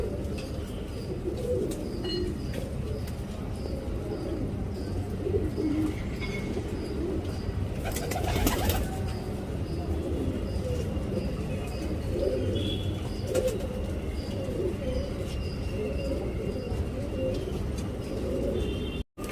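Tournament pigeons coo steadily at close range through a loft, soft repeated calls over a busy low rumble, with a brief louder burst partway through.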